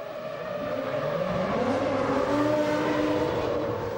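Formula 1 cars at the 2001 Austrian Grand Prix roar as they accelerate back up to speed, with steady, loud engine noise and rising pitch as several cars pass in sequence.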